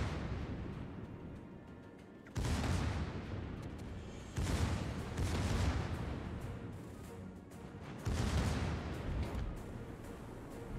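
Artillery cannons fire in the World War I shooter Isonzo, with three heavy booming salvos landing about two to three seconds apart, each followed by a long rumbling battlefield roar that stays loud throughout.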